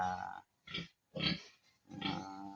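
A breeding sow grunts on a farm, four close, loud grunts in an uneven rhythm separated by brief pauses.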